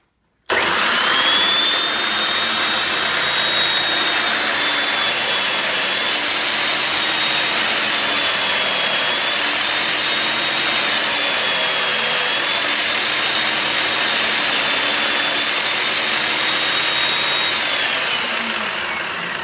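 A power sander grinds a bevel on a wooden violin pipe for a band organ, a loud continuous whine and rush held steadily for nearly twenty seconds close up, with a thin high tone running through it.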